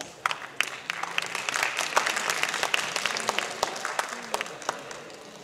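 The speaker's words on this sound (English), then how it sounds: "Let's give him a huge round of applause." Audience applause fills a school farewell evening in an indoor hall, a steady wash of many hands clapping at moderate volume with scattered louder claps and faint crowd murmur underneath.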